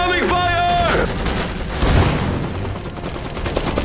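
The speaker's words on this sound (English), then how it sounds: "Incoming fire." Gunfire rattles through an Iron Harvest multiplayer battle in dense, overlapping bursts with booming impacts, and a brief synthetic tone sounds near the start.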